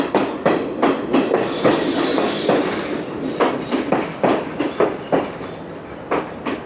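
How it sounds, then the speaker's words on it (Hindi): Local train arriving at platform 2 of Colombo railway station in Sri Lanka: loud, close rhythmic clickety-clack of wheels over rail joints, with squealing wheels and a high metallic whine. "लोकल, ये भी लोकल है जो प्लेटफॉर्म 2 पे आ गई है।"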